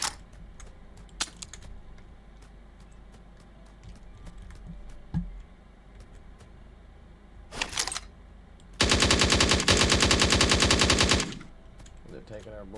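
Rapid automatic gunfire rings out in a video game as zombies are shot, with a short burst and then a loud sustained volley of a few seconds over quiet background ticking and clicks.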